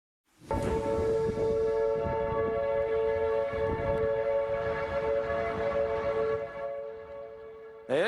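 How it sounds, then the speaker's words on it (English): Outdoor warning sirens wail as a tornado-warned storm passes over a hotel in Ridgeland, Mississippi, a steady loud harmonic tone holding for several seconds over rumbling wind and storm noise, then easing slightly near the end. "The sirens sounding as a tornado-warned storm passed over a hotel in Ridgeland, Mississippi."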